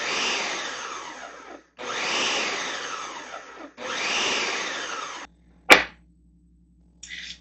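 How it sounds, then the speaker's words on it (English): A food processor whirs in three sustained pulses while stirring flour and salt for pastry, each pulse loud and close with short breaks between, followed by a sharp clunk and a brief final whir. "Those ingredients went into the hopper of my pastry blender or food processor, so I'm just going to stir this a little bit to stir the flour and salt."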